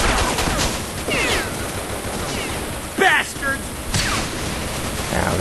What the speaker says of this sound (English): Stop shooting the fucking tank